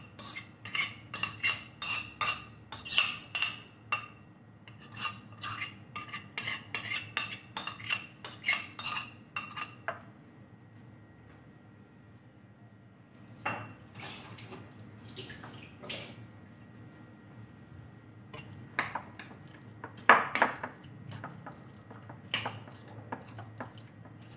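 Ukoy fritter batter mixed in a bowl with a utensil, giving a rapid rhythmic run of bright clinks and scrapes, a pause, then a few more scattered strokes against the bowl, close and clear.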